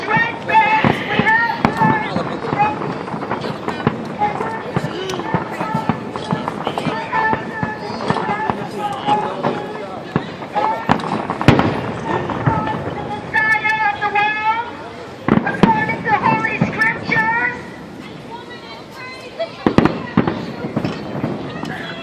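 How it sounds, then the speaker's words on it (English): Fourth of July fireworks in Washington DC pop and bang sporadically amid a noisy outdoor crowd, with sharp near cracks punctuating continuous voices and shouting. "make special effects with the fireworks."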